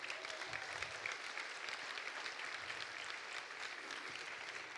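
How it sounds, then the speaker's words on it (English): An audience at a business conference applauding a speaker named Raj, steady crowd clapping heard at a distance and fairly faint, continuing throughout without talk. "Give a big round of applause to Raj."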